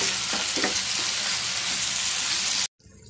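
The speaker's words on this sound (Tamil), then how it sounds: "முட்டையை நல்லா மிக்ஸ் பண்ணிடலாம்" Egg roast with masala stirred in a hot pan, a loud continuous frying hiss with a couple of soft scraping strokes, close up and without speech, cutting off abruptly near the end.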